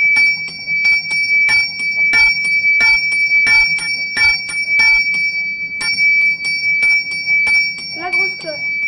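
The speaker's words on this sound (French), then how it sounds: "La grosse cloche." An installed large church bell joins a smaller one, struck in quick regular strokes that make a loud, continuous peal with a steady ringing hum, and a brief voice comes in near the end.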